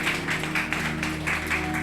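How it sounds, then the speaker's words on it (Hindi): A congregation at a church sermon claps in a loose rhythm, with repeated bursts of hand claps over a steady hum of music or sound system, moderately loud and without speech. "ताली बजाइए"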